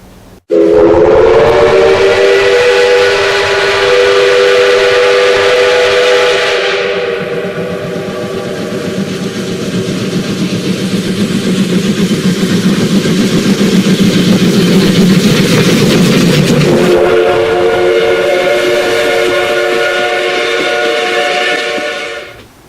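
Steam locomotive whistle sounding loud and sustained, then giving way to the chugging rumble of a departing train, before the whistle blows again near the end; no talking.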